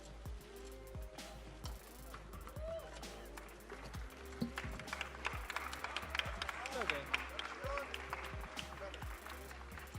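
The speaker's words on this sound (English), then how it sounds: "Big round of applause for two classic gentlemen." Steady applause and scattered claps from the crowd at the Mayweather vs McGregor post-fight press conference, running throughout under a speaking voice.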